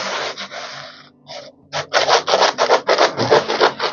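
A scraper scrapes paint overspray off a wall in a string of short, close, rasping strokes, a few spaced out and then a quicker rhythmic run, with no voice.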